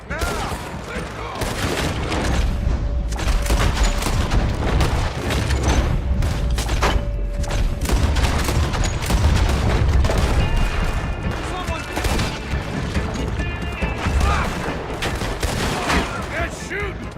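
Dense gunfire in a video game battle, sustained loud volleys and booms close by with shouting voices mixed through the chaotic fight.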